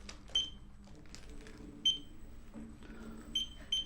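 Short high electronic beeps from a Ninebot by Segway miniPRO self-balancing scooter sound several times at irregular intervals over quiet background rumble.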